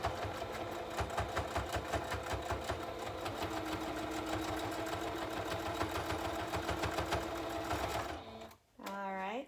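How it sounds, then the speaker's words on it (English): Domestic sewing machine stitching back and forth along the seam of a fabric face mask, a fast, even mechanical rattle close by that runs steadily and then stops, followed by a few spoken words. "I'm going to just hurry and sew that, and we'll have a finished mask."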